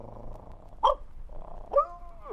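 Two short, separate dog barks about a second apart, fairly close, over a quiet background.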